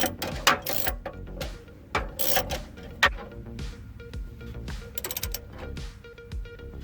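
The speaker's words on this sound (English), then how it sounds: "And now I'm bolting in the starter." Ratchet clicks in quick rhythmic bursts while a starter is bolted into an RV, with short pauses between runs of tightly spaced metallic pawl ticks, close and fairly loud.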